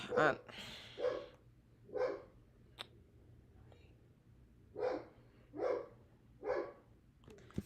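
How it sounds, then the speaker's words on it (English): A dog barks repeatedly in the background indoors during a night of Omaha tornado warnings, spaced single barks in an irregular rhythm, moderately loud against a quiet room. "Sorry for the dog in the background."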